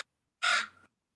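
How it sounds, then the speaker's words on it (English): A single harsh raven caw sounds clearly and loudly against silence, one brief call lasting under half a second. "I hear ravens."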